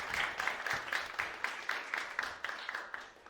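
Small audience applauding panelists at a conference session on African media and technology, with quite faint, evenly spaced claps in a steady rhythm that sound like a modest group.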